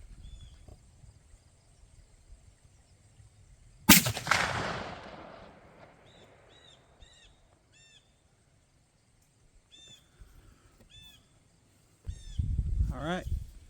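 A CVA Optima V2 muzzleloader firing at a 100-yard target outdoors, one loud sharp blast with a long decaying rumble, birds chirping faintly in the quiet afterward.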